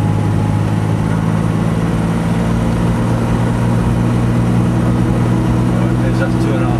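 An Alvis TF21 with an automatic gearbox accelerates in second gear, a steady low engine drone with a humming mid-range tone filling the cabin, continuous and fairly loud throughout.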